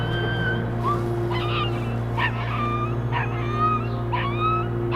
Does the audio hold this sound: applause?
no